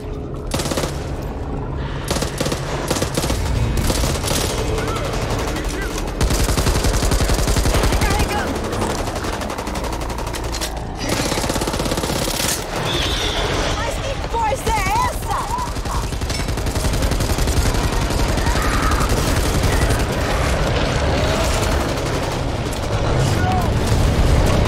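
Rapid gunfire from a weapon in the zombie shooter Back 4 Blood, sustained bursts of shots with booms and loud combat noise filling the scene, while someone talks in Portuguese over the action.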